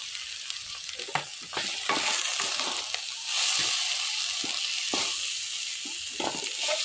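Tomatoes frying and sizzling in a pan for a chilli chicken dish, with a steady loud hiss broken by repeated stirring scrapes and clatters, and no talking.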